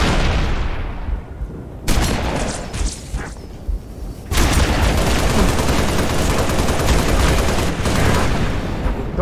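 Gunfire in the Halo: Reach video game, dense continuous bursts of loud automatic fire and booming blasts with no pauses.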